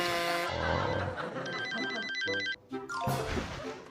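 A phone ringtone plays loud and close in a comedy sketch, a melodic electronic jingle with a rapid warbling trill that repeats, with no talk during it.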